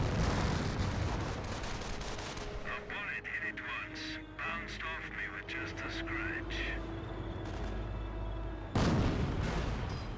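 In the Company of Heroes game, a shell slams into a Sherman tank with heavy booming impacts and a burst of noise, while other battle sounds and a commentator's voice carry on over it.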